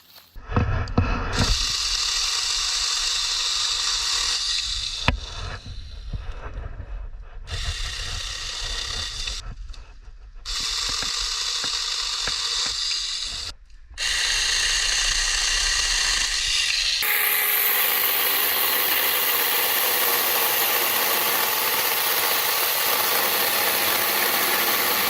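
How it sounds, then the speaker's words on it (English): A battery-powered mini cordless chainsaw with a 4-inch bar runs with a loud, steady buzzing whine, cutting through wood in several bursts with short pauses, then a long continuous cut, no talking. "I really like this cordless chainsaw"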